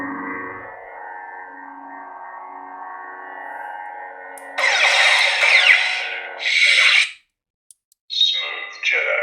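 Lightsaber sound font effects played from a Proffie board in a Starkiller (Galen Marek) saber: a steady electronic hum, then bursts of crackling, swishing clash and blast noises with a brief silence between, loud and close.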